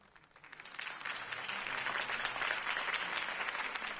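Crowd applause in the Batman Telltale video game rises from quiet into a steady, dense wash of many hands clapping, sustained and somewhat distant for several seconds.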